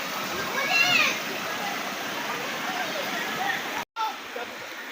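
Spring water flows up from underground in the countryside, a steady rushing wash heard close by with faint voices in the background and a brief dropout near the end.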